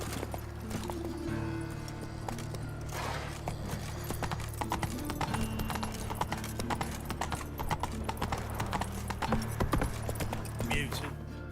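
Hooves of Roach, a horse in The Witcher 3, clip-clop steadily at a gallop for the whole stretch, with a brief whinny and game ambience and voices underneath.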